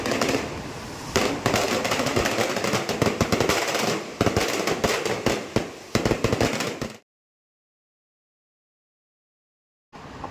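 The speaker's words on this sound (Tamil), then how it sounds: "பட்டாசு வெடிச்சதெல்லாம் பார்த்துட்டு" Firecrackers bursting at a Tamil temple festival, a dense rapid crackle of loud pops for about seven seconds, then sudden silence before the bursts resume at the end.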